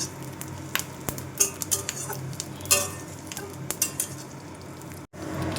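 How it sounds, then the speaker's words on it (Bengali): Fish fries in hot oil with a continuous crackling sizzle, punctuated by scattered clicks and scrapes of a utensil stirring in the pan. "মাছটা ভাজা ভাজা হয়ে গেছে একটু তুলে নেব"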